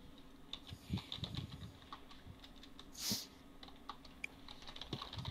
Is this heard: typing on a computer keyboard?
yes